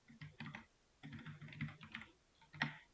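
Quick bursts of typing on a computer keyboard, soft close key clicks in short irregular runs with brief pauses, faint and alone.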